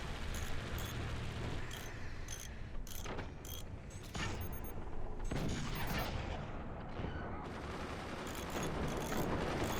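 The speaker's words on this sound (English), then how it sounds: "I do like the use of the mortars here." Mortars fire in a competitive shooter match, with repeated heavy booms and crackling gunfire layered into a continuous, loud battle din.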